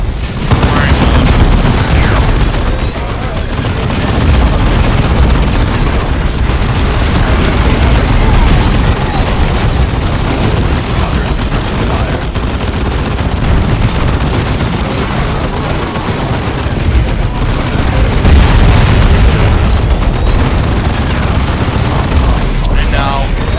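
Dense, continuous gunfire and booming explosions from a Warhammer 40k: Dawn of War 2 battle, loud and sustained throughout with rolling blasts layered over rapid shots, and game voices faintly mixed in.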